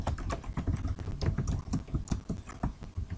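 Rapid keystrokes on a computer keyboard as a string is typed in for a C programming exercise, a dense run of close, even clicks lasting about three seconds with no voices.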